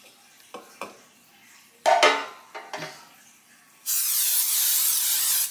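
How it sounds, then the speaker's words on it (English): Non-stick cooking spray hisses steadily for about two seconds into a bread pan, following a few clanks and rattles of the pan being handled in a home kitchen. "And spray it so it doesn't stick."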